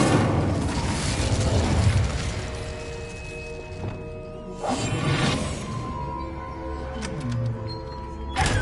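Incendio fire spell cast in Hogwarts Legacy: several booming bursts with whooshing flame and crackling impacts, separated by brief lulls, over a low rumbling game soundscape, with no speech.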